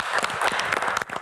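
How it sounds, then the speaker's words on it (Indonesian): A studio audience on an Indonesian health talk show breaks into a short burst of brisk clapping, many hands fairly close and loud, with uneven peaks through the brief stretch. "Oke, tepuk tangan dong."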